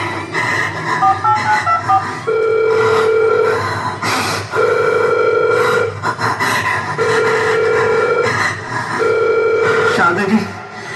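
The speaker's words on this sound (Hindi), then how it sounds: "वो फोन नहीं उठा रहा है" A telephone rings unanswered at a school annual function stage performance, a repeated electronic ring pattern in steady bursts, loud and close, with music and voices running underneath.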